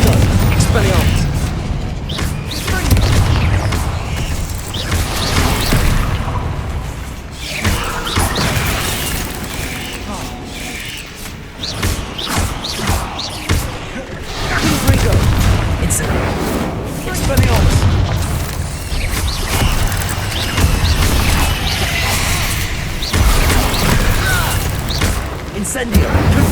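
Confringo and Incendio spell blasts in Hogwarts Legacy, a steady stream of loud booming bursts and crackling impacts over about half a minute, with shouted voices throughout.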